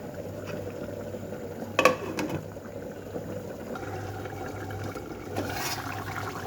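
Fish curry with gravy bubbling in a pot over heat, a low continuous simmer with a couple of sharper knocks from the utensil partway through, with no one talking.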